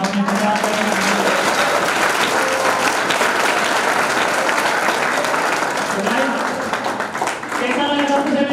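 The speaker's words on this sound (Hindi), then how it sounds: "सो जोरदार तालियों के साथ हम धन्यवाद करेंगे।" Loud, dense applause from a large seminar audience thanking a speaker, a sustained roar of clapping with brief voices audible within it before it dips and swells again.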